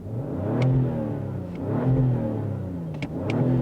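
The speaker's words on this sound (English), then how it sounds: "love the sound of that straight 6." A 2024 BMW X5 xDrive40i straight-six engine revs in several rising and falling sweeps, smooth with a deep sonorous tone heard up close, with small clicks between the revs.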